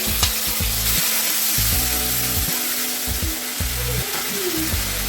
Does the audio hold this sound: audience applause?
no